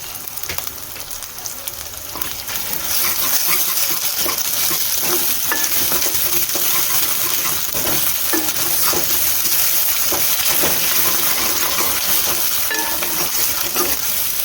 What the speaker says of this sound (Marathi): मसाला आपला तेलामध्ये चांगला परतून झालेला आहे